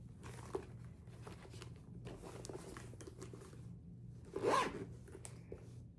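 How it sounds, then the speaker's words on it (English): Quiet, close rubbing and handling noises of a leather bag, then one brief raspy zip of its back zipper near the end, faint against a soft background hum. "And a full zipper in the back."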